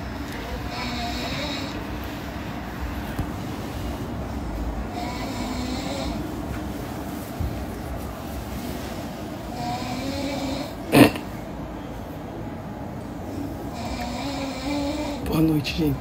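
An old woman snoring at night, a steady low rasping drone that continues through the whole stretch, with a sharp short noise near the middle and small stirrings toward the end.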